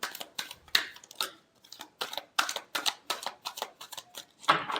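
A tarot deck being shuffled by hand gives close, rapid papery clicks and riffles in quick uneven bursts, with brief pauses between them and no talking.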